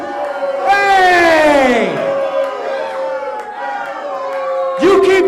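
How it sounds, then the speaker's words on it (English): A wrestling crowd boos and jeers in a loud, sustained mass of voices, with someone shouting over it at the start and again near the end. "don't you boo him, don't you boo him"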